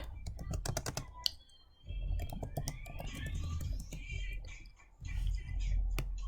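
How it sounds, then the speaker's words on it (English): Typing on a computer keyboard: quick runs of close, crisp key clicks with short pauses, over faint room noise. "you can type your letter, your message, whatever you want to say to your friend"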